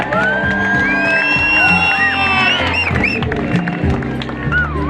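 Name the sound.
crowd clapping and cheering for the chief minister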